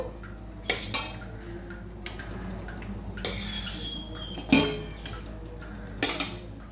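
Metal pan and lid clatter while a katla fish curry in yogurt gravy cooks over a low gas flame, with several sharp clinks and scrapes at irregular intervals over a quiet kitchen background.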